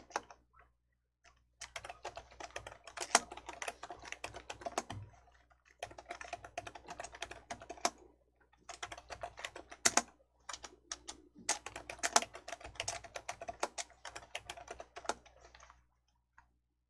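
Typing on a computer keyboard in a quiet room, with rapid clicking key bursts separated by short pauses, fairly close and alone.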